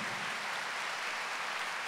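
Audience applause at a church gathering, a dense, even patter of many hands clapping at a distance, fairly faint and steady.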